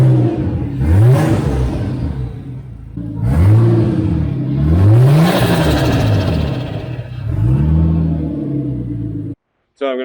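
Nissan RB25 engine in an S14 200SX drift car revving after an idle screw adjustment, several rising and falling revs over a steady running rumble, loud and close, with a brief cut near the end.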